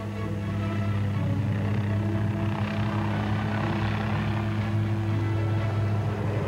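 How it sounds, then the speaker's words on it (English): An attack helicopter drones steadily with a low, throbbing rotor hum and engine whine, continuous and fairly close throughout. "As the attack helicopters move forward"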